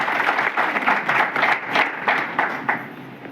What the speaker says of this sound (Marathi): श्री बाबाजी परत यांच्यासाठी एकदा जोरदार टाळ्या वाजवूया